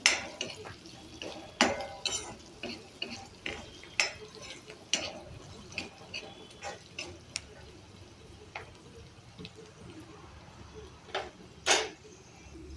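Turmeric being stirred and sautéed in a pan for yellow bhadang with green chillies, a soft steady sizzle broken by repeated sharp clicks and scrapes of a spoon against the pan, fairly quiet and close, with no talking.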